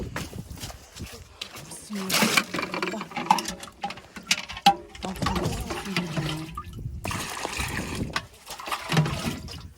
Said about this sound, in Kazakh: Жаңбыр күшті болып тұр.